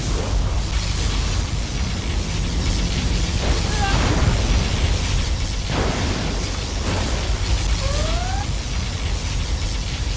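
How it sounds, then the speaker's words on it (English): Particle cannon fire in Command & Conquer Generals: a dense, continuous roar with a couple of heavier blasts near the middle, amid busy battle noise. "Particle cannon activated."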